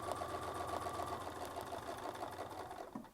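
Sewing machine stitching a quilt with a Westalee Spin E Fex ruler, a fast steady mechanical whir and needle patter running close and continuous, then slowing and stopping at the end.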